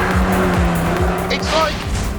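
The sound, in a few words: Renault Megane Trophy-R cornering hard in the wet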